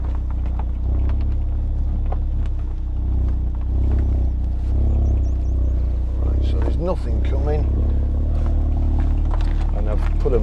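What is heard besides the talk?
2017 Audi TTS 2.0 TFSI engine and exhaust while driving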